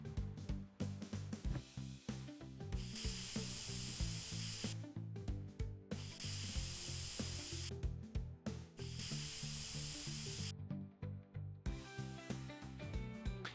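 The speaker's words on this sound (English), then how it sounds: "Yeah, I like how you can change the spray." Spray painting in the Tiny House Simulator video game: repeated bursts of steady hissing spray, each lasting a second or two, separated by short pauses and brief clicks, with no talking.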